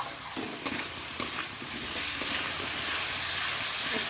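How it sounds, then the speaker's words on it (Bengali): A masala paste of ground cumin and garam masala is being sautéed for crab curry. It sizzles steadily and softly, with a few sharp scrape-like stirring clicks spaced through the frying and no voices. "দিয়ে এবার কষানো হবে, একটু কষিয়ে তারপর কাঁকড়াটা দিয়ে দেবো"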